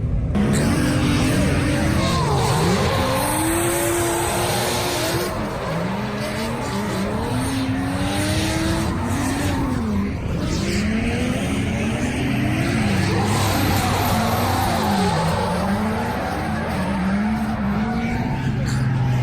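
Drift cars at a Formula D licensing event at Nikko Circuit in Japan, engines revving loudly and continuously, rising and falling in repeated sweeps as throttle is blipped through slides, with tire noise beneath.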